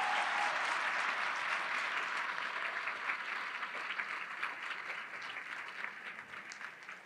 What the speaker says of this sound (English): let's give a big round of applause to our panelists for today